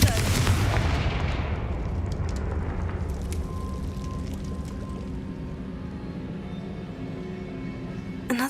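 Confringo blasting spell in Hogwarts Legacy: a loud booming burst at the start that rolls into a long crackling, rumbling decay, with a few faint clicks and a sharper hit at the very end.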